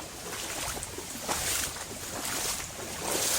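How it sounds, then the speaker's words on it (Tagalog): Steady rushing water in a rice paddy fills the clip with a broad hiss, surging slightly louder in places, close and continuous with no voices. "malakas na ang tubig maraming tubig talaga ang daming tubig"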